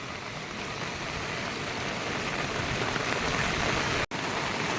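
Heavy rain pours down over flooded roads during a village flood, a dense, steady hiss of falling water that fills the whole scene with only a momentary break.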